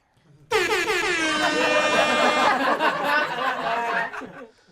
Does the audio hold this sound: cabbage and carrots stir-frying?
no